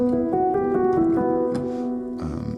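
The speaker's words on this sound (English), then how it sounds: "so the soft piano is that main sound that you heard that I did earlier" Gentle piano notes played in a soft, lilting phrase, a few overlapping tones ringing and decaying, close and quiet with no voices.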